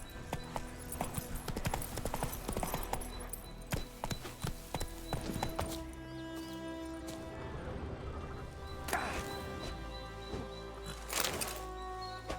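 Roach, a horse in the video game The Witcher 3, clip-clops along in a steady rhythm of hoof beats close up, with soft creaks and other game sounds behind.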